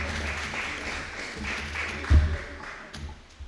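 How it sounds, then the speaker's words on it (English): An awards audience at a police youth club ceremony applauds an under-15 athlete winner, a short burst of clapping with a voice briefly heard over it. "Let's have a round of applause for Jaden."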